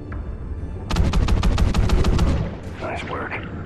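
Underwater gunfire in the video game Call of Duty: Ghosts rings out as a rapid burst of about a dozen sharp shots lasting over a second, then fades into murky bubbling ambience.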